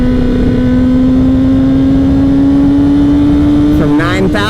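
A Honda CBR600RR motorcycle accelerates hard from 9,000 RPM, its loud engine whine climbing steadily in pitch up close before a brief shift near the end, with wind noise throughout.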